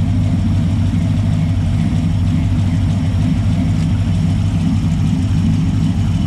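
A Ram truck fitted with an aftermarket cam idles loud and close, a steady, choppy low engine rumble running alone without a break.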